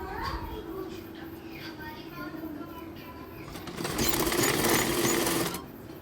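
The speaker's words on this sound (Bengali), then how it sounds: "তো তারপরে যে চেনটা এভাবে নিচে রেখে তারপর সেলাইটা দিয়ে দিই।" A sewing machine stitches a zipper chain onto the hem of a salwar in a loud, close two-second burst, after a stretch of quieter background sound that may include talking.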